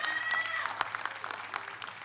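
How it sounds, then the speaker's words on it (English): Applause from a commencement audience for a graduate at a university ceremony, a fairly faint, scattered patter of clapping that thins out over two seconds, with some voices mixed in. "Another round of applause for a beautiful graduate with a beautiful message for all."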